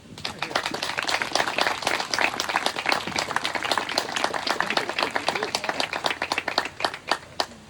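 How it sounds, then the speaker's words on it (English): A round of applause for a senator at the Maryland Preservation Awards, dense crowd clapping with crisp individual claps standing out, steady and fairly loud, then tapering off near the end. "let's please give the senator another round of applause"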